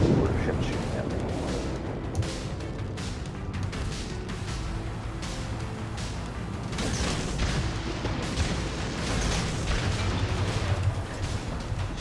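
Naval gunfire from enemy warships in a video game, a dense continuous barrage of booming shots and rumbling blasts rolling on steadily throughout.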